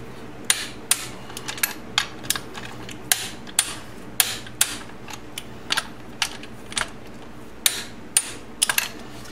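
Sharp, irregular clicks of a torque wrench tightening final drive bolts on a 2002 BMW K1200RS motorcycle, repeated metallic ticks spaced unevenly over a faint background hum, no talking.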